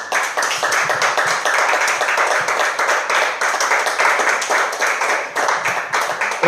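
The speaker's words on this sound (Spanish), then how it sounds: "Y le doy un aplauso al Señor." A church congregation claims for the Lord during a sermon, a dense, steady wash of many hands clapping at once, loud and sustained with no voices over it.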